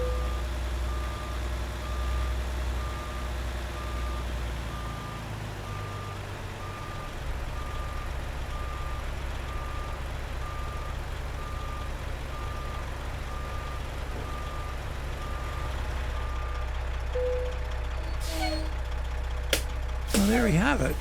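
Peterbilt 389 day cab truck hauling cypress logs in American Truck Simulator, its engine a steady low rumble throughout, with a periodic beep and a few clicks and knocks near the end, under occasional talk.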